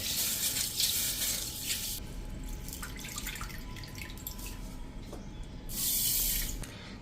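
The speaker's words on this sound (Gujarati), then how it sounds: "આપણા જે મગ 1 કપ લીધા છે ને એને એક બોલમાં નાખીને અને 2 થી 3 પાણીએ ધોઈ નાખશું" Mung beans are rinsed with water in a bowl, with running and splashing water that swells and fades, dripping and swishing close by and a louder gush near the end.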